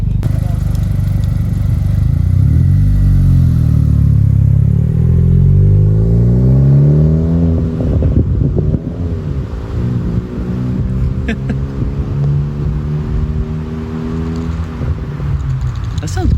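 A 2020 Honda Civic Si with a MAPerformance street exhaust drives down a street, its engine note rising and falling through gear changes, loud and steady throughout, with people talking over it.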